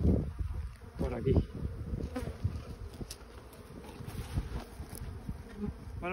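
Honey bees swarm around an opened beehive during a beekeeping inspection, filling the air with dense, steady buzzing that rises and falls as insects pass close, along with a few soft handling knocks.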